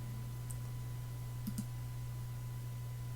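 A computer mouse clicks on a web waiver form, giving a couple of small, quick clicks over a steady electrical hum, with no talking.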